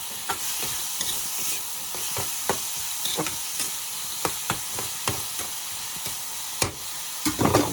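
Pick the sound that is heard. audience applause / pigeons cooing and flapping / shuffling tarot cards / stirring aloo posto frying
stirring aloo posto frying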